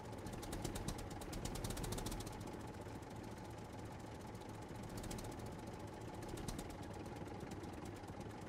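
Tractor engine in the survival video game SCUM runs steadily with a rough, knocking idle rumble and a continuous mechanical drone throughout, no talking over it.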